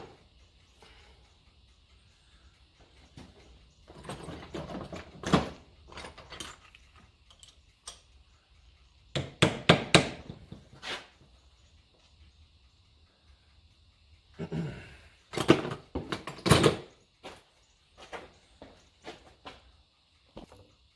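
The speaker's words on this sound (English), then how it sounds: "I used a socket that was the size of that gear and just tap it down." A socket is tapped against a gear to drive it down during a Corvette Z06 sixth-gear transmission swap, giving scattered clusters of quick metallic knocks and taps with quiet pauses between, fairly close but soft.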